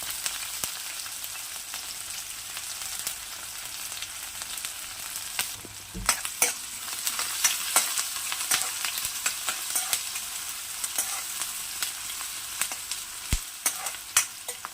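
Onions, green chilies and garlic frying in hot oil with cumin, a steady crackling sizzle broken by frequent sharp spatula scrapes and taps against the pan.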